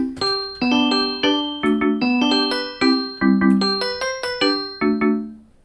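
Minecraft note blocks play the third measure of a song, a bright, bell-like melody of quick plucked notes in a steady bouncing rhythm, loud and close with no voices.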